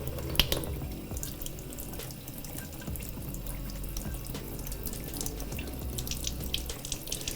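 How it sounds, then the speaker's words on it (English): Running water from a sink tap streams steadily while a lash extension cleansing brush is rinsed under it. The splashing and trickling stays close and continuous, with occasional small drips. "I just do this until the water runs clear and there's no more makeup left on the brush."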